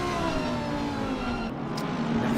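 A racing car in a PC racing game runs flat out in sixth gear on the Monza straight, its engine holding a loud, steady high-pitched drone with a slight whirring edge throughout.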